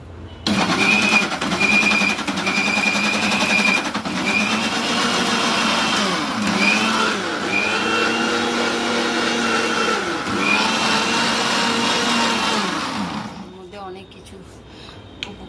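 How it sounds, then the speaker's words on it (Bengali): A mixer grinder whirs up to speed to blend a mango milkshake, a loud, close motor whine that shifts pitch as it runs for about thirteen seconds, then cuts off. "এবার এটাকে মিক্সারে ঘুরিয়ে নিতে"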